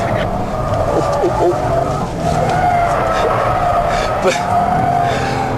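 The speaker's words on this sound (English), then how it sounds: "there's smoke firing out of the back of the car as the inside wheel spins away" A Jaguar XJR spins its inside rear wheel under hard cornering, throwing tyre smoke: a sustained screeching tyre squeal over engine roar, loud and continuous, with someone talking over it.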